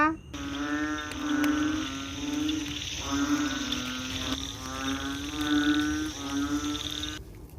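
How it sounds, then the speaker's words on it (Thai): Frogs and toads croak in a pond filled to the brim after heavy rain. Their calls come as repeated, droning, nasal pulses in waves, close and steady, with no talking. "แล้วเมื่อคืนมีกบมีอึ่งอ่างร้องด้วยนะ"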